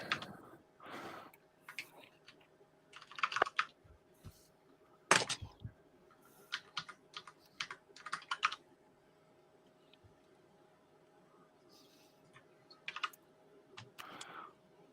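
Computer keyboard keys are tapped in scattered bursts of quick, close clicks and clacks, with pauses between the runs and one louder knock partway through, over a faint steady hum.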